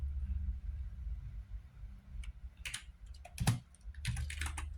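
Computer keyboard typing of a network command, a short uneven run of key clicks with a couple of louder strikes, close and fairly quiet, no voices.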